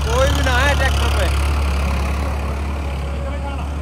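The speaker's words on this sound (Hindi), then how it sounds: "ट्रैक्टर पे कोई नहीं है, ट्रैक्टर अपने आप चल रहा है" A Farmtrac tractor engine runs in first gear with nobody on board during a field tug-of-war, a loud steady low rumble close by, with someone talking over it.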